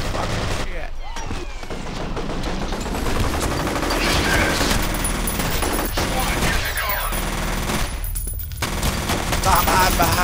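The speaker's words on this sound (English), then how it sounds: "I'm being pummeled with bullets." Gunfire in the F.E.A.R. video game: sustained bursts of automatic fire and rapid shots fill the whole stretch, loud and dense, with brief pauses, while a player talks over the battle.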